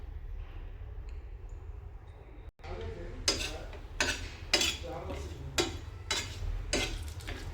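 Mutton and onions roast in oil on a tawa: after a quiet start, a spatula scrapes and clinks against the pan in repeated bursts over a soft sizzle, with a voice talking faintly at times.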